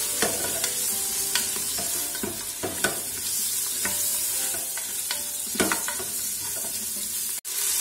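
Ingredients for Moroccan lentil soup sizzle together in a pot, a steady close frying hiss broken by repeated scrapes and clinks of stirring, ending with a sharp knock, no voices.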